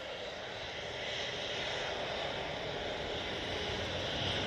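Distant jet engine roar from a Jet2 Boeing 737 at Manchester Airport, a steady broadband rumble that swells slightly toward the end, with no voices.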